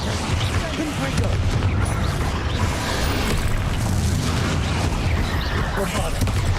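Confringo blasting spells fired repeatedly in Hogwarts Legacy on hard mode, producing a dense run of loud booms and crackling explosions under an excited shouting voice.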